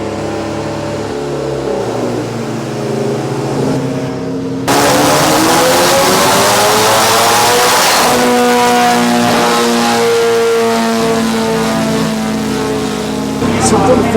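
A Honda K20 race engine on a dyno, loud and close: it idles, then jumps to wide-open throttle and climbs steadily through the revs in one long sustained pull, with a brief shift in pitch partway through.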